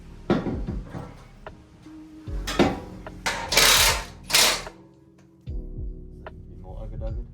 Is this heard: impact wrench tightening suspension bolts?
yes